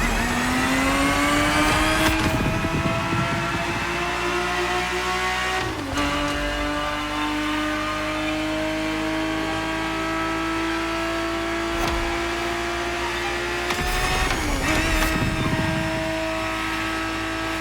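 A Ferrari 365 GTB4 from The Crew Motorfest revs and pulls through its gears, a loud sustained engine note climbing in pitch with sharp drops at each of several shifts, close and alone without voices.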